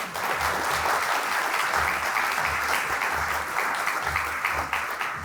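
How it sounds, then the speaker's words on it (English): Sustained audience applause fills a civic State of the City address hall after guests are introduced, a dense steady wash of clapping from a large crowd, loud and continuous with slight swells throughout. "Let's give them a round of applause."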